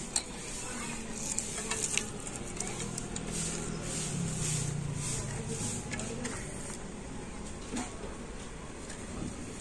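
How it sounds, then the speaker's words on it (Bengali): A fork beats eggs with finely chopped onion, coriander leaves, tomato and green chillies for Mughlai paratha, giving a soft, continuous wet stirring with occasional light clicks against the bowl, fairly quiet and close. "আর এবার একটা কাঁটা চামচ দিয়ে তো সমস্ত কিছু কিন্তু একটু ভালো করে মিশিয়ে নেব।"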